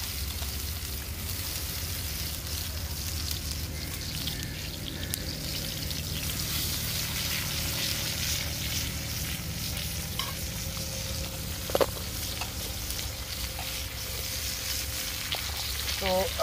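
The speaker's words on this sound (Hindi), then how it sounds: "तो हमारे टमाटर हो रहे हैं फ्राई" Tomatoes fry in oil in a frying pan over a campfire in the woods, a steady, dense sizzle under a low rumble, with one brief sharp click near the end.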